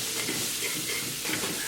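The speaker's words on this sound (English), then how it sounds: "Cook the spices along with tadka for a half minute." Spices sizzle in hot oil for a tadka on a medium flame, a steady, soft crackling hiss with no talking.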